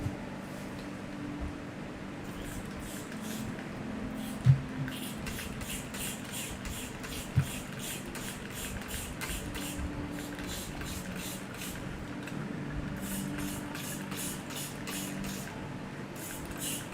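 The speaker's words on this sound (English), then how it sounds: "Clean this airbrush out." Airbrush being cleaned out with airbrush cleaner, short repeated bursts of spraying hiss in quick pulses against a low background hum, with a couple of faint knocks.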